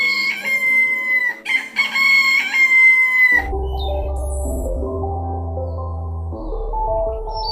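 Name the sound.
rooster crowing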